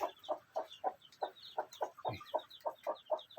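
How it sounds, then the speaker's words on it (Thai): A Thai hen on her nest clucks steadily, close by, in a run of soft rhythmic clucks about four per second, with no other sound. "นี่ไก่ไทยครับไก่ไทยฟักอยู่ นี่ไก่ไทยฟักนะครับ"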